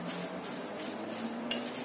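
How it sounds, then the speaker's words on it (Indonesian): A spoon stirs tofu with a spice and broth-powder mixture in a pot. The scraping and shuffling is soft and close, with a light clink near the end and no talking. "Kita aduk lagi sampai semuanya tercampur rata."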